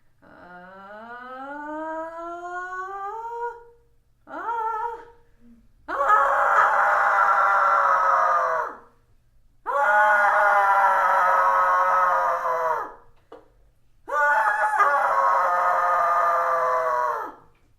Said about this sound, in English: This is me screaming with advice.